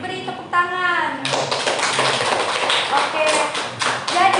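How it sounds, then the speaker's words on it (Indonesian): A small classroom group claps for a student during a micro-teaching civics lesson on the constitution, close and brisk. It follows a brief burst of voices at the start, with talk continuing over the clapping. "Silakan beri tepuk tangan."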